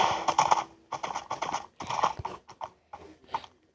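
Horse hooves clip-clop in a steady, quick rhythm while riding across blocky ground in Minecraft, loud and close, in short bursts with brief pauses between them and no talk.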